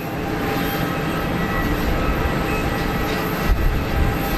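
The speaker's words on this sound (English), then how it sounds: "Bit more clamshell reverser action going on there" An EasyJet airliner rolling out after landing at Geneva Airport with its clamshell thrust reversers deployed, a loud, continuous broadband roar that swells slightly near the end and carries no talk.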